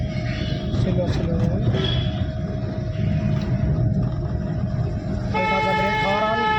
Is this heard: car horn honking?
yes